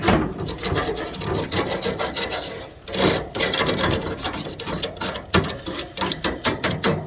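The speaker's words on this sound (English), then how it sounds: "So we'll scrape this grill off while we're hot here." A hot grill grate is scraped clean before pork goes on to smoke, with steady rough rasping strokes close by and a brief pause midway; no one speaks.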